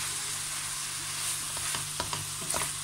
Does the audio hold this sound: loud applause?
no